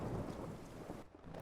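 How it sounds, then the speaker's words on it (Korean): A nighttime thunderstorm gives a deep rumble of thunder under steady heavy rain, loud at first and then thinning briefly, with no voices. "이 날은 폭풍우가 부는 밤이었죠"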